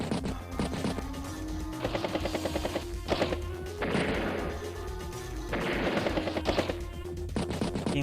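Rapid bursts of video game gunfire from an Advance Wars battle, dense rattling volleys repeating in several loud clusters over a continuous musical backing.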